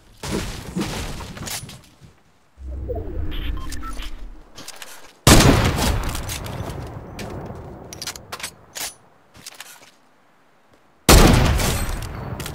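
A P90 submachine gun fires in Fortnite in several sharp, loud rapid bursts separated by short pauses, with crackling shots and impacts crowding each volley.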